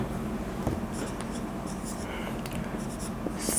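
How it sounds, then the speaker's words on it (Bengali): A pen scratches out a trigonometry problem by hand on paper, quiet close strokes in short bursts over faint background hiss, without speech. "তো আমরা প্রথমে প্রশ্নটা লিখি।"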